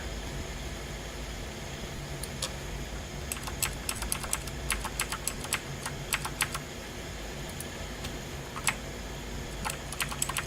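Steady clatter of typing on a computer keyboard, with bursts of quick keystrokes sounding close over a low constant hum, broken by short pauses.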